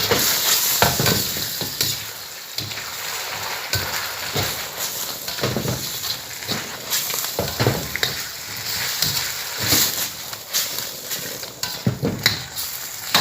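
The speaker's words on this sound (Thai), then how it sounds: "เอาเนื้อปลาเนื้อหมูหรือที่เราทอดพักไว้นะครับ ลงเลยนะครับ คลุกเคล้าเข้ากันนะครับ" Fried fish or pork is tossed through sweet and sour sauce in a hot pan, giving continuous sizzling with repeated scraping and clattering stirs in an uneven rhythm, close and fairly loud, with no speech.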